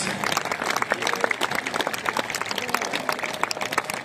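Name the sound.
loud audience applause welcoming a singer on stage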